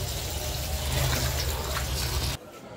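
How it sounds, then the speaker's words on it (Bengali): Leafy greens being rinsed under running water, a steady close splash and tap flow that cuts off abruptly near the end. "বন্ধুরা, যে শাকগুলো ধুয়ে নিচ্ছি ভালো করে, তারপরে কেটে নিব।"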